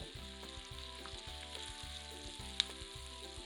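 Sausages fry on an electric stove set to medium, giving a faint, steady crackling sizzle under a low hum with a few sharp pops.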